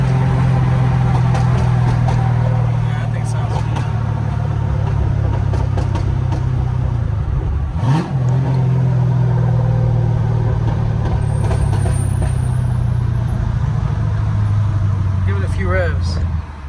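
Straight-piped 2011 fifth-generation Camaro SS V8 with catalytic converters removed, rumbling loudly and steadily up close for the whole stretch, with a brief dip and rise in revs midway and a throttle blip near the end.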